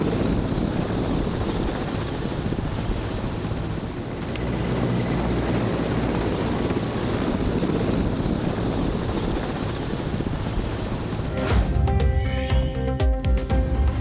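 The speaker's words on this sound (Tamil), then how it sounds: "ஹெலிகாப்டர்கள் மூலம் மூவர்ண கொடி மீது மலர் தூவி மரியாதை செலுத்தப்பட்டது" A steady, loud whirring rumble of helicopters flying past during an Indian Republic Day parade in Delhi, continuous for most of the stretch before giving way to other sounds near the end.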